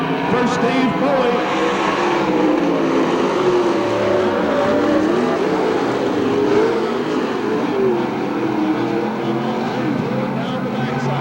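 Race cars roar around the Hamilton County Speedway oval in a 1993 memorial race, a steady, dense engine drone rising and falling as they work through the turns, heard under continuous announcer commentary.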